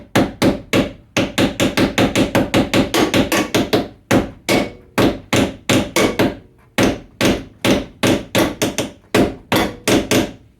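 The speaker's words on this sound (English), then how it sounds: "Got a hammer sitting right here, so I'm going to give it a little tap" A hammer taps a door hinge pin on a third-generation Camaro/Firebird in rapid bursts of sharp, ringing blows, pausing briefly between runs, loud and close with no voices.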